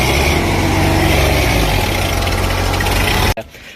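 A tractor stuck in mud runs its engine loud and close, a steady low rumbling drone that cuts off abruptly near the end.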